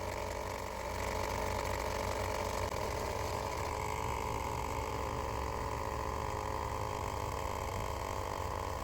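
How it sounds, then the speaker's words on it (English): A 12V tire inflator pumps air into a car tire, giving a continuous, even mechanical buzz with a fast rattling pulse that holds steady throughout the clip. "Connect inflator to air valve. Turn it on. You can check the pressure while inflating."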